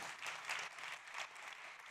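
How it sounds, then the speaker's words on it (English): An audience at a startup competition on mobility and smart cities applauds, a soft, distant wash of clapping that swells and eases over two seconds. "Big applause, please."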